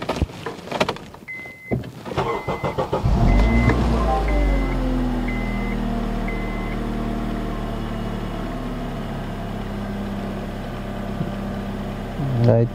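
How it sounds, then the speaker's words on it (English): A 2008-2012 Honda Accord engine cranks and catches, then settles into a steady, low idle that hums on for several seconds. "So let's turn off the car and start it again."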